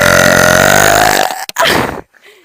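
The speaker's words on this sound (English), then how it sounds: "gonna burp right onto the sound thing." A loud, long human burp, rumbling and sustained for over a second, then a short second belch follows after a brief gap, close to the mic.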